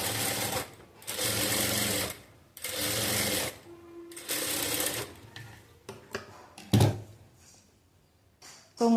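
A sewing machine stitches along the folded edge of blouse fabric in several loud, close bursts separated by short pauses, with handling clicks and brief quiet talk between runs.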